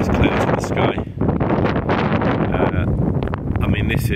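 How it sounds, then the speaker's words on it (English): Steady gusty wind buffeting the microphone outdoors during portable amateur radio operation, a loud continuous rush with brief dips, and a voice seems to be faintly present underneath. "It's a little bit too windy"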